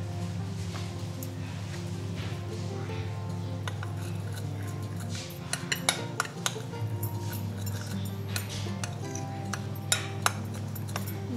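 Pink food colouring is stirred into cupcake frosting in a bowl, with scattered soft clinks and scrapes of utensil against the bowl over a steady background hum.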